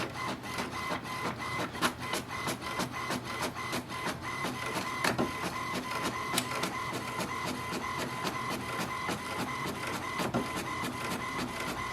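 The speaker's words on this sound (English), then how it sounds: "We can print the welcome page and we'll see how it's the print speed" An HP Envy 6120e inkjet printer prints a page steadily, its print head clicking and shuttling in rapid repeating strokes with a mechanical whir underneath, close and alone.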